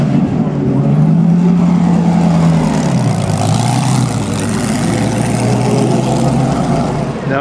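A historic racing car engine at the Monaco Historic Grand Prix roars loudly and close, its pitch falling as it passes, then a dense engine drone continues with crowd noise behind.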